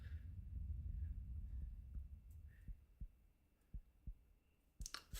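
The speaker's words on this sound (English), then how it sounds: "it's like a breathing and heartbeat sound." Slow, steady heartbeat thumps in Guts and Blackpowder, each pulse low and soft with long gaps between, over a breathy hum that fades out before a brief sharp burst at the end.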